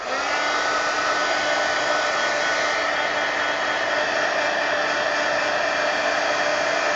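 Hair dryer blowing to dry paint on an altered journal page, a loud continuous close whirring roar held steadily throughout with no pauses.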